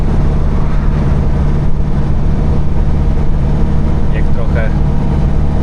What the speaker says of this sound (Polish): czas się przejechać garbuskiem